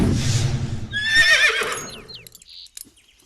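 A horse whinnies loudly with a rising, wavering neigh, followed by a few softer snorts and faint movement sounds, with no talk over it.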